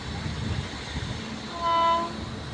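Non-stop express train passing through Rajpura railway station at speed, a steady rumbling roar with a short horn toot rising near the end, heard alone.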